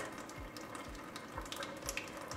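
A makeup brush rinsed under a running tap, giving a steady soft splash and trickle of water with small irregular drips, fairly faint and close, with no talking.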